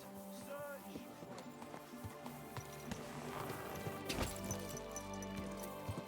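A horse's hooves clip-clop steadily at moderate distance, mixed with clattering movement and a heavy thud near the end, with no one talking.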